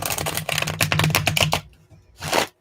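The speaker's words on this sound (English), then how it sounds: "I just want to shuffle my cards here." Tarot cards riffle and flutter in a quick rapid burst, then after a short pause a second brief shuffle follows, close and crisp.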